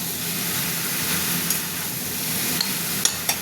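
Cabbage being stirred in a frying pan beside a fish head, a steady close sizzle with a few sharp scrapes and taps of the spoon near the end, no voices.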